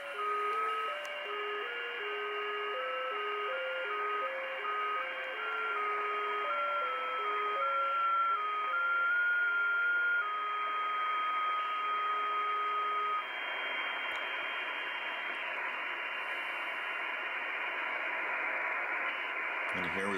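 Amateur radio digital-mode transmission carrying a CQ call from a European station: a steady run of stepped multi-tone beeps hopping between pitches over a continuous hiss, loud and unbroken, later settling into a denser tonal band with no voices.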